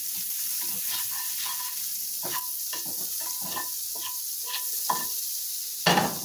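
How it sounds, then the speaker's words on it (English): Butter sizzles in a frying pan with a steady hiss, broken by soft scraping stirs and small clinks of a utensil against the pan, ahead of frying eggs for a tater tot hashbrown breakfast. "I added some more butter to the pan."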